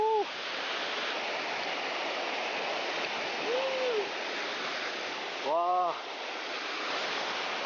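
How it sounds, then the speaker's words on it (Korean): A waterfall in Jirisan's Chilseon Valley roars in a constant, full rush of white water close by, while a man's brief exclamations of delight rise above it. "저쪽 폭포 보세요"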